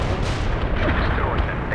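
Dense, continuous battlefield rumble of an artillery strike in the real-time strategy game World in Conflict, a steady roar of booming impacts under a low radio-style voice.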